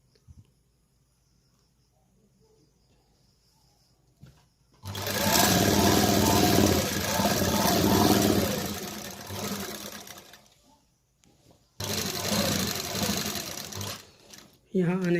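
A sewing machine runs in two loud, steady bursts while stitching a kurti, a long run followed by a shorter one after a pause, with quiet handling before it.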